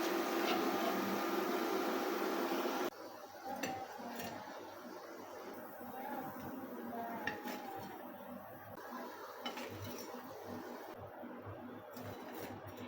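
Fried bread chicken parcels are lifted from a frying pan of hot oil: a steady broad sizzle at first, then scattered light clinks and scrapes of a utensil against the pan.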